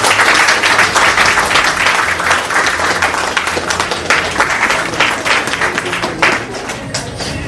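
A room full of students gives their professor sustained, dense applause, many hands clapping steadily and loudly for several seconds with a faint murmur of voices underneath.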